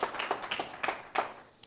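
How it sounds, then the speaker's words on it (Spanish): Members of a church congregation at a Friday teaching service clap in a handful of distinct, moderately close bursts, the claps irregular and sparse rather than sustained applause. "Si usted lo cree, denle un aplauso al Rey."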